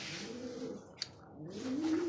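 Mukhi pigeons in a farm loft give soft, low cooing, with a rising throaty coo near the end over a steady airy background and one brief click midway.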